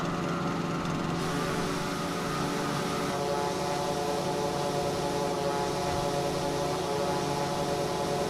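Eurofly Twinfox small aircraft engine in Microsoft Flight Simulator, a steady buzzing propeller drone with a light rattling texture, constant and fairly close, with no voices.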